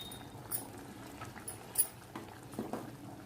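Paneer butter masala gravy simmering in a pan, giving a soft, steady bubbling and popping with a few sharper pops, close and fairly quiet.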